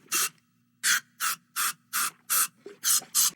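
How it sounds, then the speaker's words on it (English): Throat spray squirted in a SpongeBob SquarePants cartoon, eight short sharp hissing spritzes in a quick uneven rhythm, loud and close with nothing else behind them. "a throat spray gag"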